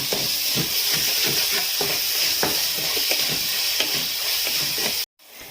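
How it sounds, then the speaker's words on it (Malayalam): Shallots and curry leaves sauté in a pan with a constant loud sizzle and hiss, broken by repeated soft scraping stirs, before the sound suddenly cuts off near the end. "നമുക്കപ്പോൾ ഇട്ടു കൊടുത്തിട്ട് നന്നായിട്ട് വഴറ്റാം"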